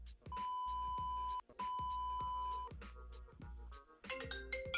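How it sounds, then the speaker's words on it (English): A phone rings with an incoming call, a loud electronic ringtone in repeated bursts with a short gap between them, then a different rising chime melody at the end, and no talk. "Oh, I have a phone call."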